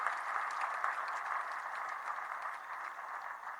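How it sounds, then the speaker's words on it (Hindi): Applause from a crowd at a BJP victory event in Panchkula after municipal elections, a steady, fairly distant clapping that holds evenly for a few seconds with no talk. "उनके नेतृत्व के लिए जोरदार तालियों से उनका अभिनंदन किया जाए"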